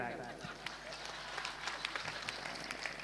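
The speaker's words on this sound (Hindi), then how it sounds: "आप लोगों को इसलिए ताली बजानी चाहिए" An audience applauds at a Hindi poetry gathering, the Akhil Bhartiy Kavi Sammelan 2023 in Phalawda, Meerut: faint, scattered clapping that holds steady for about three seconds, with a voice running underneath.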